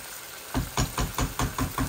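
Chicken bhuna frying in a pan, a faint hiss broken by seven rhythmic, evenly spaced scraping or knocking strokes of a spoon against the pan, close and fairly loud.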